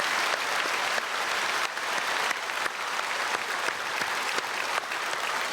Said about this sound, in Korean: 박수로 다 함께 축복하겠습니다